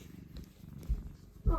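A pet cat named Simba purrs up close while lying on his back, a soft rhythmic rumble with a few louder thumps near the end and brief talk alongside.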